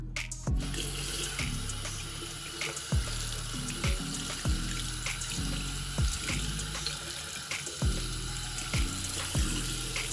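Running tap water pours over a shoe treated with protector spray as red wine is rinsed off, a steady close splash with rhythmic low gurgles.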